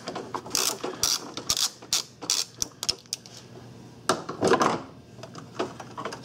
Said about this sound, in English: I'm going to be getting set up for the 13 millimeter socket and ratchet, and we'll be taking that bolt out